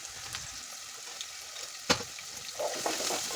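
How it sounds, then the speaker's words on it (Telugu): Ginger garlic paste and turmeric fry in oil with a soft, steady sizzle, broken by a few scraping stirs and a brief louder clack as the mixture is moved around the pan. "అల్లం వెల్లుల్లి పేస్ట్ వేసి పచ్చివాసన పోయేంత వరకు ఫ్రై చేసుకోవాలి తర్వాత పసుపు యాడ్ చేసుకోవాలి"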